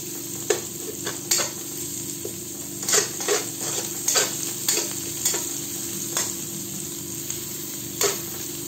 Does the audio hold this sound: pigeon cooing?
no